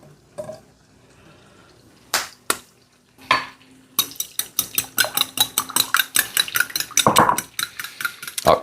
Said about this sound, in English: Then I'm going to beat 3 eggs.